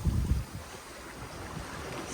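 A sailboat surfs quickly down waves off Tarifa, with steady wind roar buffeting the microphone and low rushing water sweeping along the hull.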